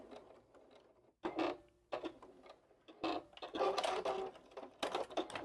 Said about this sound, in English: coming right up to the very edge and then doing a back stitch.